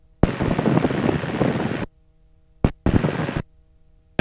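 A training helicopter flies a final approach for touch-and-go landings, its loud, broad rotor and engine roar arriving in bursts separated by silent gaps, as if heard through a keyed intercom.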